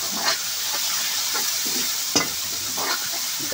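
Jungle mushrooms frying in a pan and stirred with a spoon, a constant close sizzle broken by several distinct scraping strokes at an irregular rhythm, with no voices.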